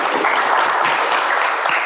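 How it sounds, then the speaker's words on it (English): A crowd claps for a couple of seconds, a dense, even burst of applause close by. "Please give yourself a round of applause,"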